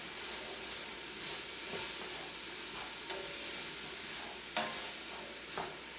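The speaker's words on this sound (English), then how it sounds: "I'm going to stir this." Roast beef soup with basil and rosemary being stirred in a pot: a steady close sizzle and hiss with occasional scraping strokes of the spoon.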